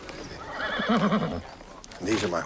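Horses whinny in a Wild West setting: a loud, warbling neigh rises and falls near the start and middle, then a second shrill whinny follows after a short pause, with faint hoof shuffling around them.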